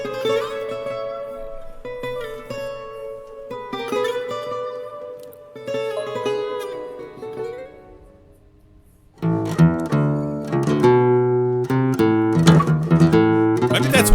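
Fado guitar music from a tribute, plucked melodic lines with bright ringing notes, softer and sparse at first, then a fuller, louder strummed passage after a short lull, no voices.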